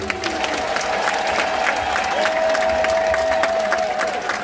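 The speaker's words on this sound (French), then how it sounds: "Applaudissez-les, s'il vous plaît." Wedding guests applauding the newlywed couple, sustained crowd clapping with some cheering, accompanied by a steady held musical tone throughout.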